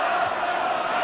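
A football crowd at Ayresome Park, Middlesbrough, roars in a dense, continuous wall of noise, broad and sustained for a moment with no individual voices standing out.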